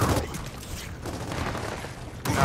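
Gunfire from a sniper rifle in the video game Gears of War 4, a few loud shots and booms in busy combat noise, with a sharp burst near the end.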